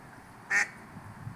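A duck gives a single brief quack on a body of water, fairly close and alone above a low, steady outdoor background.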